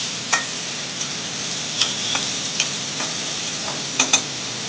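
Chicken frying in a pan for curry, a soft continuous sizzle with scattered sharp ticks and taps, like a spatula striking the pan, heard alone with no voices.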